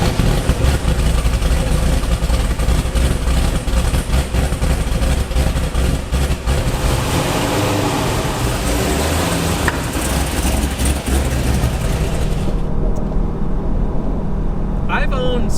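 A track-modified 435-horsepower sports car engine runs loud and steady throughout, with a rising rev and a shift in tone partway through, and the sound cuts back sharply near the end.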